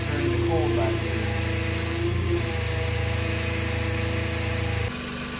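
A car engine idles steadily while the power steering pump, with air in the system, makes a loud continuous whine and hum close by, and the tone drops slightly near the end.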